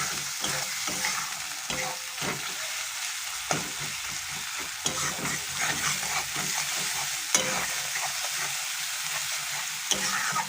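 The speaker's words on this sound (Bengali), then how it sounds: "ভালো করে এবার কষিয়ে নেব মশলাটা।" Spice paste for egg curry, with chili powder in oil, sizzles steadily in a pan while a spoon stirs it, scraping and knocking at intervals over a dense, constant frying hiss, close and fairly loud with no voices.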